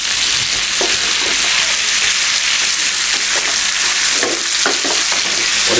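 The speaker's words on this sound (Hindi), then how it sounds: "1 किलो चिकन थी बोनलेस में शामिल कर दें इस तरीके से।" A kilo of boneless chicken fries loudly in a hot pan for chicken jalfrezi, giving a dense, steady sizzle close up with small crackles throughout.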